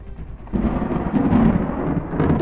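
Deep rumbling thunder on a stormy night in a filmed drama, breaking in after a quiet start and rolling on steadily, fairly loud, with a hint of rain.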